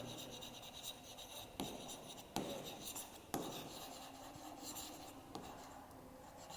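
A pen or chalk scratches across a board during a math lesson, giving a steady, close rubbing scrawl with a few sharp taps between strokes and no speech over it.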